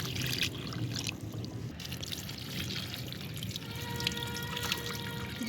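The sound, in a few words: water poured onto dry potted plants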